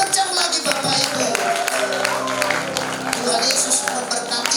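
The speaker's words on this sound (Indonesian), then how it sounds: "Berikan tepuk tangan." Wedding guests at a church blessing ceremony clap together, a dense sustained patter of applause running throughout amid a lively crowd, with music and voices underneath.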